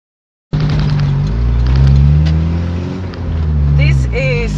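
A car drives along a coastal road on Bonaire, a steady loud engine drone and road rumble with occasional bumps and rattles, continuing without break and rising briefly near the end.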